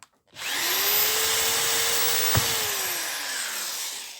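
A power drill whirs steadily for several seconds, drilling out a rivet on a Volkswagen Passat door lock, its pitch rising and easing off, with a brief sharp knock partway through.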